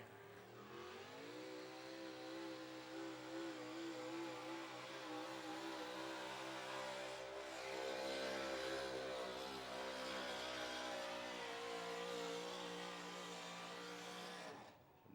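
Modified 4x4 square body Chevrolet truck pulling at an outlaw truck pull in Rock Valley, Iowa: a loud, sustained engine roar climbing in pitch as it revs, holding a heavy strained drone for about thirteen seconds before cutting off.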